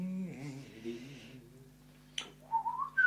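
A person whistles a short wavering tune up close, then falls silent, followed by a brief sharp noise and a thin high whistle-like tone near the end.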